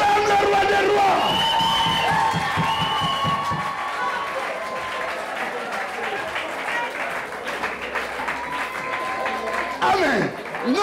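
A church congregation claps and cheers loudly in acclamation during a worship service, with rhythmic applause, whoops and shouting voices filling the space throughout.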